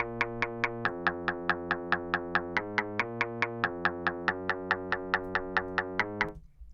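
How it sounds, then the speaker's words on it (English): A pluggnb beat's bass line pattern kept above the very low register steps through a bouncy melodic line, with short, evenly spaced plucked notes in a steady quick rhythm that shift pitch every bar, ending in a short fading tail. "like a bass line that I put in, but it doesn't play like super low bass notes,"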